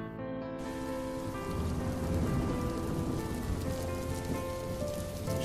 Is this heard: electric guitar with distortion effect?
no